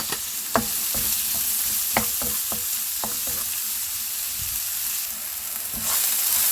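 Onion frying in a pan for siopao pork asado filling, a steady sizzle with several sharp scraping stir clicks spread through, close and fairly loud, no talking.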